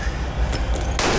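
A gunshot burst from the Bollywood action film Don 2 hits hard and broadband after a steady rumbling background, loud and close, with no talking.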